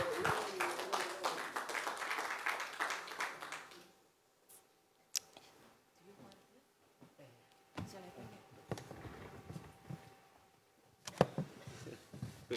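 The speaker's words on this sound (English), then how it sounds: "So please clap for Cici." An audience at the IFOAM Organics International 50th anniversary conference claps in a burst of applause that lasts a few seconds and then dies away, followed by quiet scattered sounds.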